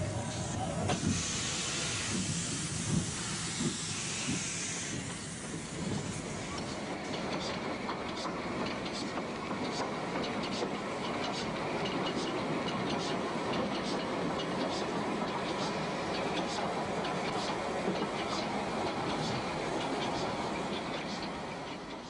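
Steam locomotives shunting coaches at a metre-gauge station on Portugal's Corgo line, including a 2460 tank engine, with a steady rumble of rolling stock and a run of rhythmic clanks and clicks throughout, moderately near and continuous.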